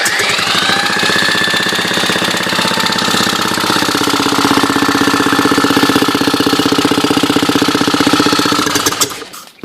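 An IZh-49 motorcycle engine fitted with a Minsk generator turns over with its spark plug removed, a loud, rapid, even mechanical chatter close by that slows and stops at the end.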